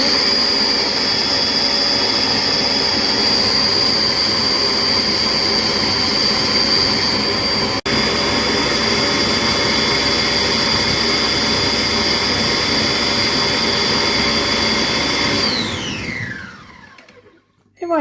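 A Compact Cook Pro multicooker runs a program on red cabbage soup, giving a steady loud mechanical whir with a high whine that holds evenly, then winds down and stops near the end.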